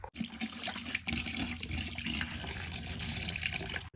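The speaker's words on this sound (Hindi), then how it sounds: "और इसमें डाल देते हैं पानी" Water pours steadily into a bucket, a continuous splashing, gurgling rush up close that fills the whole moment without pause.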